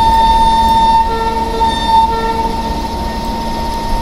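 In the Railworks train simulator, a locomotive hauling the Jan Shatabdi Express pulls away slowly, with a loud steady engine hum and sustained tonal horn or alarm notes sounding over it.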